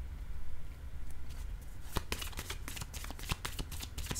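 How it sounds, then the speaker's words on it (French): Tarot cards being handled, shuffled and laid down, a quiet low hum at first, then a run of crisp, close papery flicks and slaps from about two seconds on, with no talking. "Je vais déposer une carte ici."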